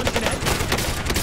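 Rapid gunfire from a Call of Duty match during a Dallas Empire tournament, bursts of automatic shots crackling steadily and fairly loud throughout, with no talk over them.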